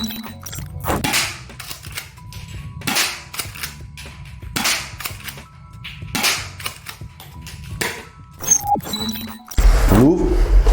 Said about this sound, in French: La caractéristique qui est un peu sympathique, c'est le côté éjection des étuis. Les fausses cartouches vont partir.